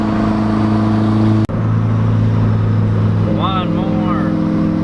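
Inside a VW MK4 GTI fitted with a GT28RS big turbo, the engine drones loudly and steadily with a brief sharp break midway, as if between gears, and a person speaks over it near the end.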